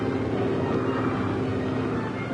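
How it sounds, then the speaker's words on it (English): A propeller airplane in a 1941 wartime film approaches overhead, a steady loud engine drone with heavy low rumble that holds constant throughout, with no talking. "The plane. Sure, it's heading straight for us."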